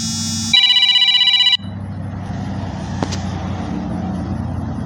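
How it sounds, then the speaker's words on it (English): A phone alarm rings in a short burst of rapid, bright electronic trills lasting about a second, then stops, leaving steady low road and engine rumble inside a moving vehicle. "It's my alarm telling me I've got 20 minutes"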